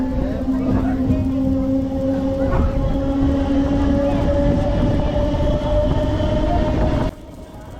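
A crowded MEMU express carriage on the Vijayawada to Gudur run rumbles along with a constant loud hum and rattle, voices murmuring among passengers, before the noise drops sharply near the end.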